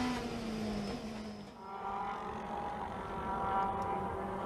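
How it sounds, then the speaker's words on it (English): WTCC touring cars racing at the Argentina round, a Citroën among them, drone past with a steady engine roar that dips briefly and swells again, moderately distant and without commentary over it. "There is the damaged Sebastian Loeb Citroen Alese of Tom Chilton"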